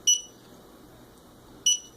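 A digital darts game sounds its miss tone: two short electronic beeps about a second and a half apart over faint background hiss.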